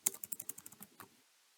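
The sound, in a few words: typing on a computer keyboard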